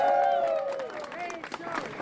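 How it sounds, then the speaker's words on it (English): Audience applause at a talk in Barcelona, a crowd clapping beneath a sustained voice that dominates the foreground, the clapping running steadily behind it. "Let's give her a big round of applause."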